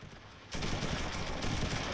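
Sustained gunfire erupts in the WWII tactical video game Close Combat III, a dense, loud crackle of rifle and machine-gun fire that starts abruptly and continues steadily to the end, with no talking.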